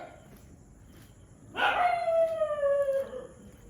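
Dogs outdoors just after midnight, heard during a walk. After a quiet stretch a single dog lets out a long, drawn, falling howl at moderate distance that lasts about a second and a half, with no voices.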